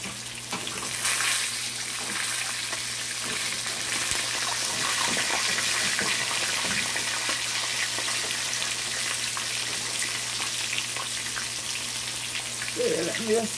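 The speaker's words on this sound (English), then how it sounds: "See how nice they fry in the cast iron." Yellowtail snapper frying in oil in a cast iron pan, giving a steady, moderately loud sizzle and crackle that runs throughout, with faint clatter of a fork and spatula and brief talk near the end.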